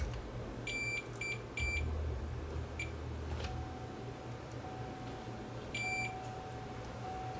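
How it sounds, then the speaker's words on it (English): Electronic beeps from a meter testing components in a dead Sansui R7 receiver, a few short sharp tones in small groups over a low steady hum. "You guys heard a beep there"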